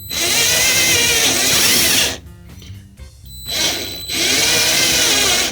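An electric drill whirs loudly and steadily as it drills into a cabinet, stops briefly for a couple of seconds, then starts up again at full speed.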